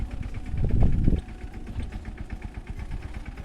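Tractor engine running in a farm field while pesticide is sprayed: a mid-pitched, knocking idle chugging at steady rhythm, briefly swelling louder near the start, then settling into a moderate, continuous throb.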